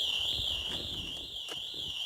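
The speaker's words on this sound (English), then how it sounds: "as you can see, the alarm's triggered" A Pandora car alarm sounds a steady electronic tone that wavers continuously at a high pitch, loud and unbroken, with faint background clatter underneath.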